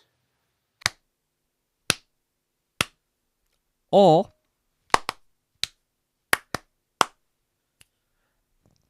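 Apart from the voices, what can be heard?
hand claps made for syncing audio in the edit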